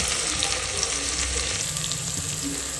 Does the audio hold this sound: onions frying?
yes